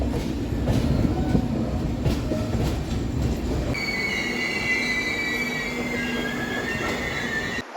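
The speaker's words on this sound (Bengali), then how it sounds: "দেখুন রাত দুটোয় মুম্বাইয়ের লোকাল ট্রেনের সাথে ক্রসিং হচ্ছে পানভেলের বাইরে" A Mumbai local train passes at night outside Panvel, with continuous rumbling wheels and loud, sustained metallic wheel squeal rising partway through, steady and close throughout.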